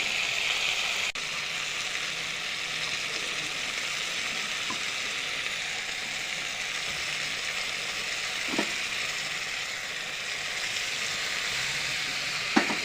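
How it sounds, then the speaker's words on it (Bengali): Steady sizzling and frying as fish, drumsticks, tomato and potato are sautéed in a pan for a fish curry, a continuous hiss with a few soft stirring knocks. "এবারে এই মাছ, ডাঁটা, টমেটো আর এই আলুটা দিয়ে কষবো।"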